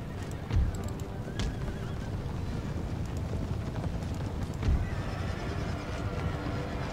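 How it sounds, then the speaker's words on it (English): Cavalry horses charge in a Total War battle, with steady galloping hoofbeats and occasional neighs over a dense rumbling battlefield din. "We're going to charge in with our cavalry."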